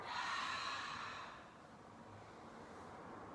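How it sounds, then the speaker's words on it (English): A long, soft breathy exhale as someone bows forward into a yoga fold, strongest at the start and fading gradually into quiet room tone, with no talking. "Exhale to bow forward"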